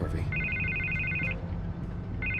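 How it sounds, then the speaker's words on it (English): A telephone rings in the Batman Telltale Series video game, a trilling electronic ring in two bursts, the first about a second long and the second starting near the end, over a dense low music and ambience bed. "I can't get the phone to stop ringing"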